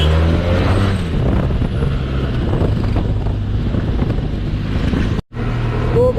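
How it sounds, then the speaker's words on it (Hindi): Road traffic rushes past while riding a Benelli TRK 502 motorcycle, a constant low engine and wind roar with passing vehicle noise and one brief dropout near the end. "एंड अब हम घुसेंगे ट्रैफिक के बीच।"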